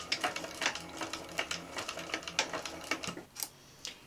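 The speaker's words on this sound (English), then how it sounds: "we're sewing with a 3/8 inch seam allowance" A sewing machine stitches a 3/8 inch seam on a fabric backpack panel, running in short, quiet, uneven bursts of rapid needle ticking with brief pauses, no voices.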